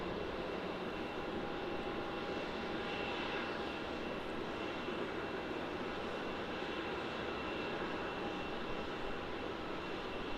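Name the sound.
DHL Boeing 767 departing to Singapore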